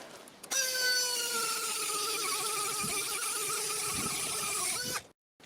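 A rotary sanding drum wrapped in 400 grit sandpaper spins up to a steady high whine while porting a motorcycle two-stroke cylinder, grinding continuously and close for about four seconds before stopping abruptly.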